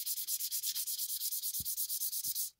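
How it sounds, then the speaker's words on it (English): Sandpaper roughs up a sheet metal surface before painting, making about twenty quick, even back-and-forth rasping strokes close up, with no talk. "we're just going to rough up the surface a bit"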